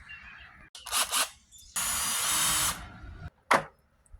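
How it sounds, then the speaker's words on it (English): A power drill bores into a board in several bursts: short revving spurts first, then one longer steady whine, and finally a brief sharp burst, all close and fairly loud, with quiet gaps between. "let's go ahead and start drilling this thing"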